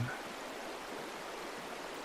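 Water flows steadily in a stream, a soft, even rushing that holds unchanged throughout, faint and with no other sounds.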